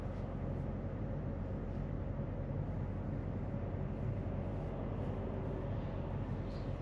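A 3.0 Duramax diesel idles slightly high during an active particulate-filter regeneration, giving a steady, faint low rumble with a constant whine and no voices.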